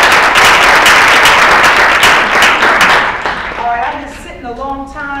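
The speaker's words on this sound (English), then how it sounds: "Give her a big round of applause." Audience at a National Bar Association forum bursts into a big round of applause for a district attorney, loud dense clapping for about three seconds before it thins out and a voice begins speaking.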